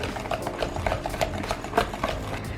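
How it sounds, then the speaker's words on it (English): A whisk works through eggless vanilla sponge cake batter in a bowl, making a steady, quick run of soft scraping and tapping strokes at close range. "Then again keep whisking it until everything is mixed well"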